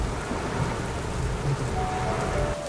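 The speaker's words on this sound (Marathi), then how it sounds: "मित्रांनो थोडासा पाऊस चालू आहे त्यामुळे आम्ही गाडीतच बसलोय" Steady rain falls on a parked car in Savlya Ghat, heard from inside as a dense, continuous hiss and patter that never lets up, with no voices.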